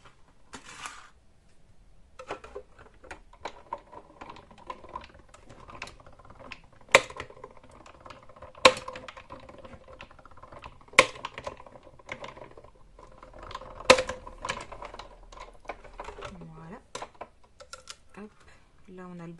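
Scissors snip through material for a handmade decorative trivet: a long run of sharp, close clicks and snips at an uneven pace, with scattered louder cuts and faint handling noise in between.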